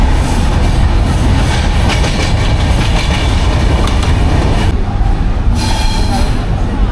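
An Ekota Express passenger train on the Dhaka to Panchagarh line runs loud and steady on the rails, with a dense rumbling roar and rapid clicking of the wheels, heard from inside the train.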